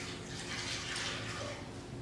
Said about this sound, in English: I'm clearly pouring it in that bowl.